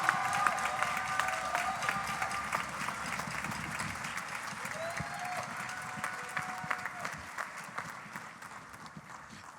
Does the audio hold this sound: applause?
yes